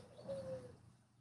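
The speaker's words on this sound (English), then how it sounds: "He's listening to the birds in the background." Birds calling in the background: a single faint, soft cooing note rises and glides for about half a second, then fades into quiet ambience.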